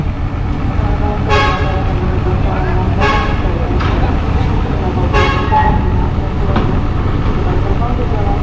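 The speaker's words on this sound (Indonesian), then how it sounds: "Ini yang keluar kendaraan militer sepertinya teman-teman." Military trucks of the Indonesian TNI rolling out past a roadside, a steady loud engine and traffic rumble with several sharp horn toots cutting through, voices talking over it.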